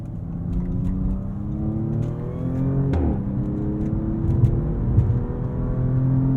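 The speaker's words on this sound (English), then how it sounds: "the torque vectoring rear differential, when it hooks up with the tires, gets the power down coming out of the curve" A 2023 Audi S6 accelerating out of a curve, its engine note rising steadily in pitch from inside the cabin, with a brief gear-shift dip midway before climbing again, loud and close with no talking.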